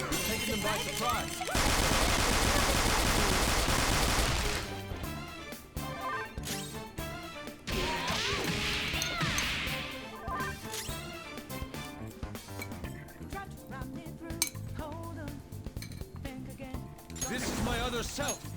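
Gunfire from the video game Persona 5, heard as a dense fusillade of loud overlapping shots with scattered sharp single bangs over game music and effects.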